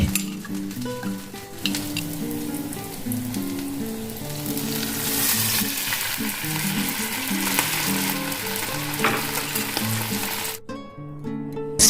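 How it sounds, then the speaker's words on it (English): Split green chillies frying in leftover oil after fish, a steady loud sizzle with occasional stirring and utensil scrapes, close up and without voices, cutting off abruptly near the end. "Split 4-5 green chillies and fry in the leftover oil."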